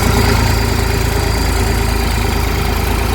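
Close by, a turbocharged New Holland tractor with a reworked silencer sits at idle, giving a loud continuous throb of quick regular low pulses with a buzzing, metallic rattle.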